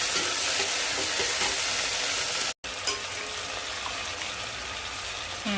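Onions sizzle and fry in a pan for coconut milk rice, a steady loud crackle that cuts out for a moment midway and then resumes.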